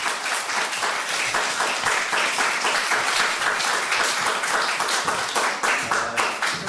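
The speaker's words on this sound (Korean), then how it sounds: "우리 박수로 우리 맞이하겠습니다." An audience at a church staff seminar claps steadily to welcome a speaker, the hand claps close and distinct, forming a continuous round of applause with no talking over it.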